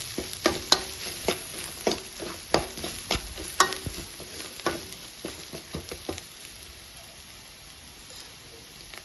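Chili powder and vegetables fry in a pan while being stirred, making a close sizzle broken by a quick run of sharp scraping strokes that slow and fade toward the end.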